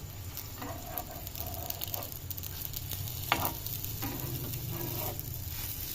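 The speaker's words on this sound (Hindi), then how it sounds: "इसको तलते जाएंगे, ठीक है। तो जी देखिए अब हम इसको पलटेंगे" Potato tikki cutlets fry in a pan, giving a steady close sizzle with soft crackles and a brief scrape or clink as they are handled.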